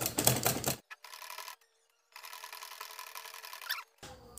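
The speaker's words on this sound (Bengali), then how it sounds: "তাই আমি এখন সেলাইটা শুরু করে আমি আপনাদেরকে দেখাচ্ছি যে সেলাইটা কেমন হলো।" A sewing machine stitches fabric in quick mechanical bursts, a rapid clattering run that stops, then starts again after a short silence, close and moderately loud.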